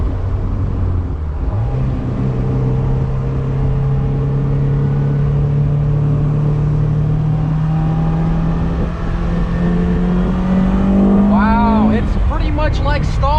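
A Mazda MX5 Miata drift build's engine drones steadily through sharp turns, its pitch climbing slowly before a quick series of downshift blips near the end, loud and close.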